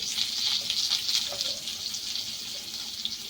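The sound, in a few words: potatoes frying in a pan with salt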